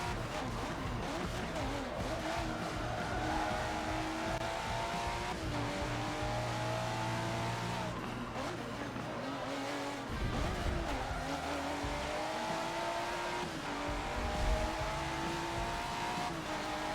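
A race car is driven in Forza Motorsport 7, its engine whining steadily with rising and falling pitch through gear changes and brief tire squeal, loud and continuous, with faint talk at times.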